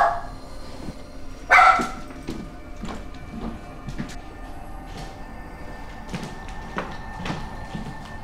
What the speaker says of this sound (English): what are you barking about?